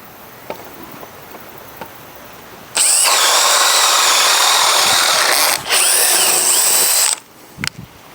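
A DeWALT DCD1007 hammer drill runs in drilling mode at third speed, a loud steady whine lasting about four seconds with a brief dip midway, after quiet clicks and handling noise.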